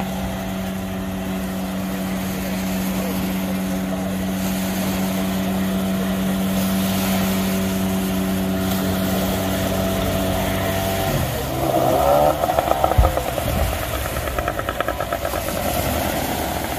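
A boat engine drones steadily at a constant pitch for a while, then its note shifts and it chugs unevenly, fairly close, at a public beach in Trincomalee, Sri Lanka.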